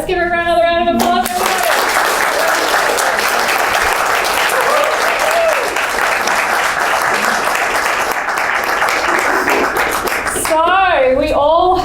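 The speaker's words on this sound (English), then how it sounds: "Let's give her another round of applause" Sustained, dense audience applause fills a hall after a speaker finishes, steady and loud for about nine seconds before a voice resumes.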